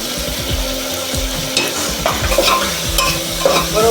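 Tuvar totha curry with coriander and turmeric being stirred and mixed in a pan, continuous close scraping and stirring over a loud sizzle.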